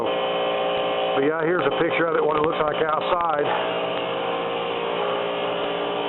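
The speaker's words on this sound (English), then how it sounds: "That's the heat pump for the sales office." A heat pump running outside a sales office gives off a steady, even mechanical drone that carries on throughout while someone talks over it.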